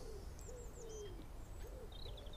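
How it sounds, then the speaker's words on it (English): At night in an open field, an owl gives several soft, repeated hoots in a loose rhythm, joined by a few higher bird calls, all faint and distant over a low background rumble. "Listen to the birds."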